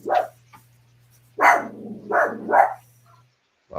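A dog barks close and loud: one sharp bark, then a pause, then three quick barks in a row, over a low steady hum with no talking.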